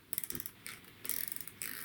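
Scissors snipping through layered jacket fabric at a buttonhole, a few quick bursts of crisp cutting clicks separated by short pauses, close and fairly quiet.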